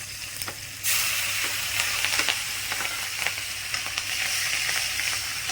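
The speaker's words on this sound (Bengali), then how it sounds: "এবারে তেলের মধ্যে দিয়ে দিচ্ছি জিরা ফোড়ন জিরা রসুন আর কাঁচা লঙ্কা" Cumin, garlic and green chili dropped into hot oil burst into a loud, sudden sizzle that holds steady with crackling pops and an occasional stir, close and without talk.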